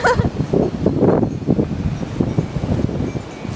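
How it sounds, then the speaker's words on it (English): Strong gusts of wind during a near-tornado storm in Kansas buffet the microphone in loud, rumbling bursts, with rustling underneath and no clear voices. "It's windy. Not really windy, but it's windy. Very windy."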